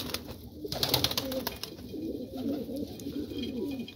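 Pigeons in a breeding loft cooing, with soft, low, throaty coos repeating close by over faint background noise and no voices.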